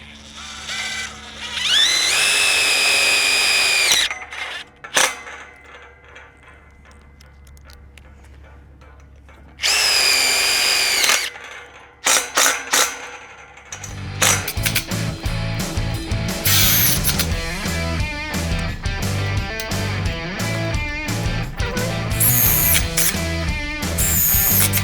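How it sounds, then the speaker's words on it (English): Power drill driving panel mounting screws into a fence post, two loud whirring bursts separated by a pause, followed by a stretch of clattering, ratcheting mechanical noise close by. "We're gonna get 2 panel mounting screws and we're gonna drill it right into the post right"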